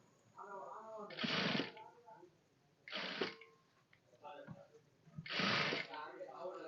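Sewing machine stitching piping onto boys' shorts, running in three loud whirring bursts of about a second each, with quieter clicks and handling between them and a voice talking in the gaps.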